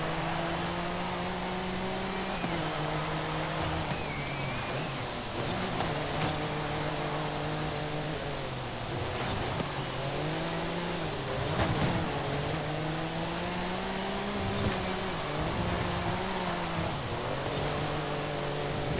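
Car sliding around a wet, low-grip track in the racing game Forza Horizon 5, with a steady engine drone and shifting tyre and spray noise held at an even level throughout, no talk.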